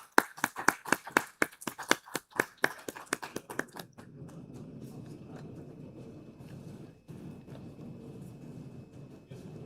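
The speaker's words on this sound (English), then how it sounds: "A huge round of applause" Audience applause at an insurance association event in Pakistan, starting as a quick run of sharp, distinct hand claps that thin out after four seconds into a softer, murmuring room tone.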